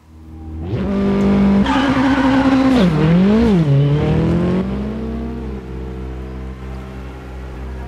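Rally car in the WRC 7 video game on a wet, rainy stage, its engine revving up and down loudly with rising and falling pitch, tire noise under it, then settling to a steadier drone; no talk.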